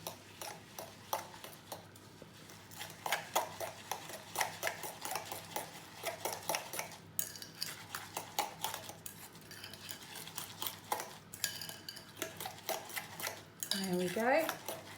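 A spoon stirs and scrapes a wet breakfast-bowl mixture in a bowl, giving a steady run of close clinking and scraping strokes for the whole stretch, with no talk.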